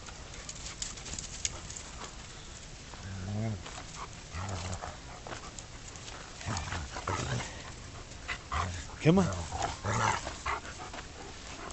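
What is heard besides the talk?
puppies panting and barking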